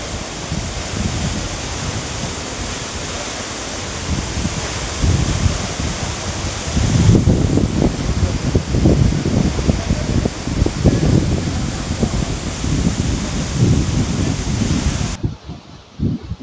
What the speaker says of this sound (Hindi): दिस इज द गॉर्जियस हिला वाटरफॉल।